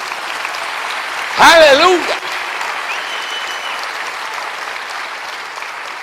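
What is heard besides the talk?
applause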